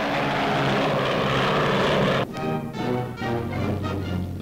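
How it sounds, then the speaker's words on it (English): A de Havilland Mosquito twin-engine bomber from an archival newsreel drones past with a loud, steady propeller roar that shifts into a pulsing, throbbing engine note partway through. "Even when flying on only one of its powerful twin motors, Canada's Mosquito bomber carries a deadly sting."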